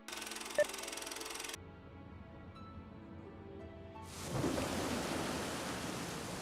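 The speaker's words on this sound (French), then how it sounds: "Le déluge débarque, en une fraction de seconde en plus." Rain on a road suddenly becomes a downpour: a quiet stretch with a few faint tones, then a loud, dense hiss of heavy rain swells in and holds steady, with a soft low rumble beneath.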